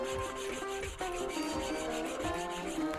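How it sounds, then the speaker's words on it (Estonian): A small Eurose hand saw cutting through a thick branch outdoors in the forest, a continuous close rasping of back-and-forth strokes in a fairly even rhythm, with no speech. "Et sellist annab ikka sellise väikse eurose saega saagida."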